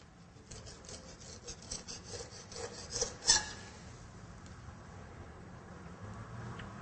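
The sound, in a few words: knife blade cutting along a fish toward the tail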